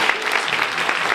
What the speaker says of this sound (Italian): facciamo un applauso al nostro assistente